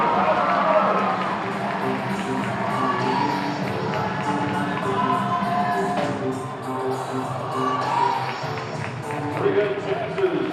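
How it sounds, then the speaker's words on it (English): Basketball fans in a high school gym during a boys game, crowd cheering and shouting steadily with an announcer talking over it. "Come on, fans. Cheer him on."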